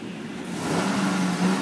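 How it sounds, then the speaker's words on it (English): A 2012 GMC Sierra 1500 SLE flex-fuel pickup engine idles and rises slightly in a low, rumbling drone, fairly close, with no talking. "I'll let you listen to the engine."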